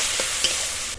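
Tomatoes cooking in a pan with a little water, chilli powder and black pepper, giving a brief close steady sizzle with a couple of soft stirring knocks.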